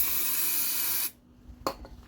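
A steady hissing spray into a lawn mower engine lasts about a second, then cuts off; a brief clatter and a couple of soft knocks follow in near silence.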